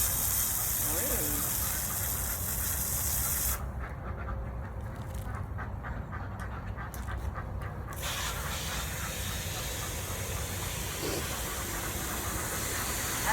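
Water is poured into drinking stations for farm ducks, giving a steady gushing splash with a brief quieter gap midway and faint duck sounds in the background.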